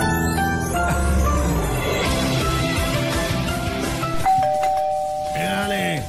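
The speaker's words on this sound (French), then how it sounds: "c'est la sonnette" A doorbell chimes several tones, ringing out clearly over background music and voices, with a final ding-dong near the end.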